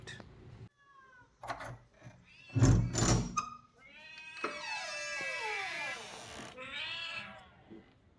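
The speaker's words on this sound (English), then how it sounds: "let's go feed our backdoor cat" A cat meows repeatedly at a back door while being fed, with several drawn-out, wavering meows and a few short ones between clunks and rustling, close and fairly clear.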